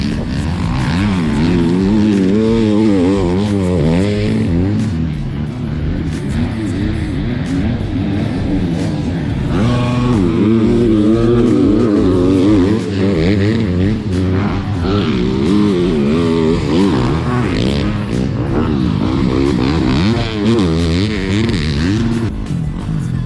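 Motocross motorcycles riding a dirt track, their engines revving and rising and falling in pitch continuously and loudly, several bikes overlapping as they pass at varying distances.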